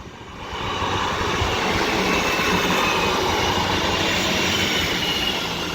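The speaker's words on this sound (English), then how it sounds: "This double East Midlands Railway 158 is off now with the 1351 East Midlands Railway service to Norwich from Liverpool Lime Street" A double East Midlands Railway class 158 diesel unit departs, a loud sustained rumble and rush of wheels on rail with faint clickety-clack, steady throughout after a brief quieter start, no talk.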